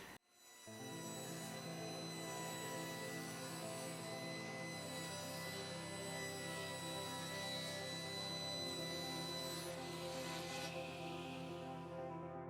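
A table saw spins up and cuts through a scrap sheet of plywood, a sustained loud whining hum with a rising bite of the blade near the end, no talking.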